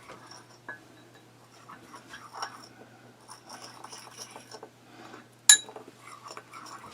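A spoon stirs a dolomite powder mixture, making faint, sparse clinks and light scraping. A sharper metallic tap comes near the end.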